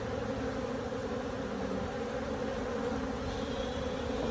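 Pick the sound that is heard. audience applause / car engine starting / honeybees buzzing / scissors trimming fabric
honeybees buzzing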